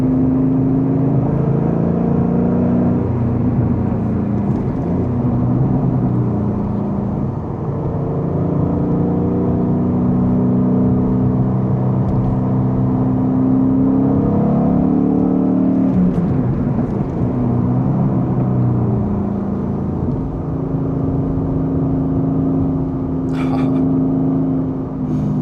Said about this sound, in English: you get all the pops and bangs on the overrun through the quad pipes